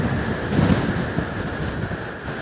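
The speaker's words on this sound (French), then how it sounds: "le bruit de fond que vous entendez, c'est le vent qui souffle dans les tours d'immeubles" Steady wind blowing among tall tower buildings in London, heard as a continuous broad rushing roar with some mic buffeting, with no voices.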